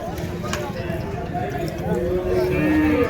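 Cattle at the Vaniyambadi cow market, where a black cow is on show, fill a busy outdoor scene with low lowing, shuffling hooves and crowd noise, while people talk nearby.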